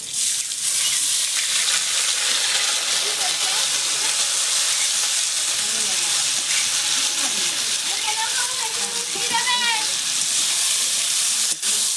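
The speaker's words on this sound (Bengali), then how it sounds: "দিয়ে আমি চালটা খানিকক্ষণ ভেজে নেব" Washed rice frying in a pan for white pulao, a steady bright sizzle with occasional stirring scrapes, with someone speaking briefly over it.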